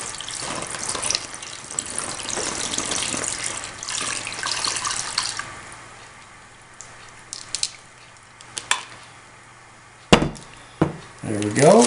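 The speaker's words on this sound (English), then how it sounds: "We'll see if I can get this brine in there." Brine poured into a gallon Ziploc bag holding trout, a close gurgling, splashing pour for several seconds, then scattered rustles and crinkles of the plastic bag as it settles.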